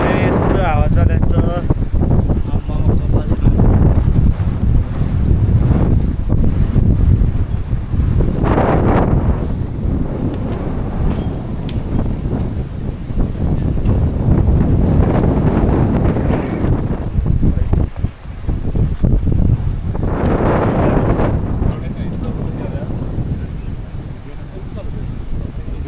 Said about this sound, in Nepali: यस्तो हावा चलेको छ।